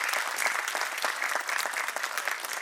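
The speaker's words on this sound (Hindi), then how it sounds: "आप सभी का मैं तालियों की ध्वनि से मैं अशोक जी लाहोटी, हमारे चीफ गेस्ट, का स्वागत करना चाहूंगी।" Audience at a school annual day applauding to welcome the chief guest, dense continuous clapping from a crowd, fairly close and steady for a couple of seconds.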